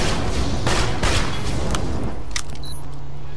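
Rapid bursts of gunfire from a newly acquired gun in the video game Borderlands 2, a dense, loud volley of shots rattling over about three seconds with no talking.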